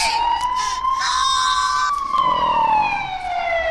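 A wailing ambulance siren from the mobile game Flying Ambulance Rescue, rising and falling in long sweeps and playing loud and steady the whole time.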